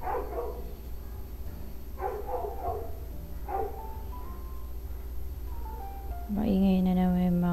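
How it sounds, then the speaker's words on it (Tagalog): Dogs bark in a few scattered, somewhat distant bursts beneath a steady background hum, followed near the end by a louder, drawn-out tonal sound. "Maingay na naman yung mga aso ko."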